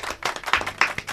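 A studio audience on a Hindi television show breaking into applause, a short burst of scattered hand claps heard fairly faint and alone.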